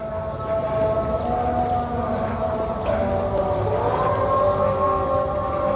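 A muezzin's wavering, sustained call to prayer rings out over Jerusalem, its long tones rising and falling against steady background hum and traffic.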